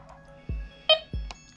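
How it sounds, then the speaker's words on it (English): A Minelab Xterra Voyager metal detector powers on with a short electronic beep sequence, a few distinct chirps and tones, close and clear in a quiet room. "you power it on, you hear the original beep"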